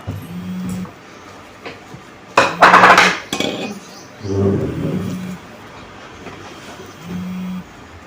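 Plates and dishes are set down and shuffled at a home meal, with a cluster of clinking ceramic and metal knocks in the middle, scattered softer clatter around it, and a voice speaking intermittently.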